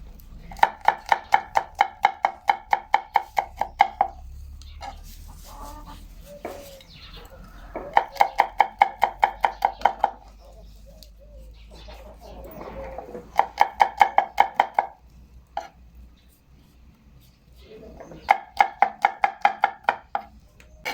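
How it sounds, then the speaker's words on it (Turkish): A knife chops peeled garlic into small pieces on a board in fast, even rapid-fire bursts, four runs of quick taps separated by brief pauses. "Şimdi şöyle sarımsaklarımı soydum, yıkadım. Şu şekilde küçük küçük doğrayacağım."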